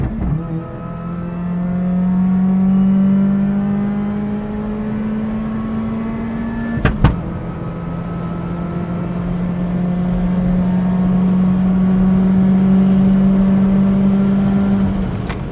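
A Chevrolet Corsa with a 1.0 engine revs hard at high RPM in first gear, a loud, close engine drone that climbs steadily in pitch, breaks briefly at a gear change, then climbs again.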